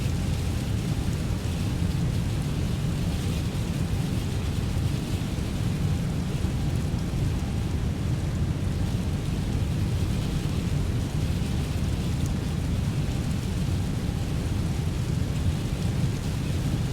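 Steady heavy rain pelting the windows of a British Airways airliner cockpit in Microsoft Flight Simulator, with deep rumbling thunder rolling underneath, a dense continuous wash heard up close throughout.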